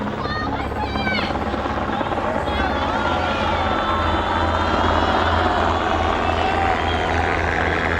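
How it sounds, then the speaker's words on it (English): A military helicopter's rotor thumps loudly and continuously overhead a street demonstration, with voices and crowd noise mixed beneath it. "Helicopters were the only military vehicles moving."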